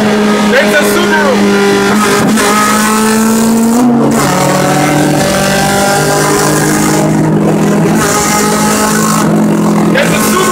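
A Subaru accelerates hard along a highway, its engine note climbing through rising revs and gear changes, loud and close, with people talking over it.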